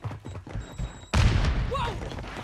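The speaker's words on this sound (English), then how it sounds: "Grenade." Grenade in Warzone 3 bursting with a sudden loud boom midway, after muffled thumps, followed by a rumbling tail and a brief voice exclamation.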